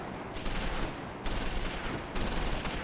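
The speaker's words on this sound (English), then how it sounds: "we're taking fire from the next building" Sustained bursts of gunfire in the World War II game Close Combat IV, three dense crackling volleys of rapid shots separated by brief lulls, loud and continuous with no talking.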